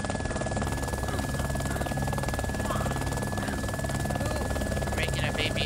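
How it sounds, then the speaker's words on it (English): A video-game helicopter drones with a steady, loud rotor whir that holds unbroken from start to finish, while a voice talks over it. "Making a baby heli right now."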